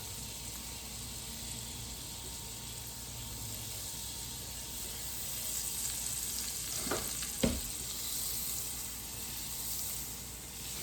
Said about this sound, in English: going to add half a stick of butter